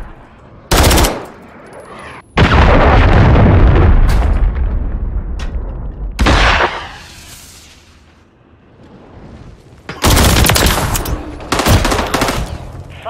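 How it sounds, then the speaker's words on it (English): Cruise missile strike in Call of Duty: Modern Warfare 3 Search and Destroy, loud booming explosions and heavy crackling blasts in several bursts, with near-continuous rumbling roar between the big hits. "Hostiles launched a cruise missile."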